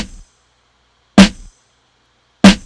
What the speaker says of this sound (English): you hear the percussion sound playing a little bit behind the snare sound